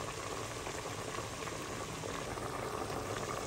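Chicken adobo bubbles and simmers steadily in a pot, a constant close-up boiling hiss with no voices over it.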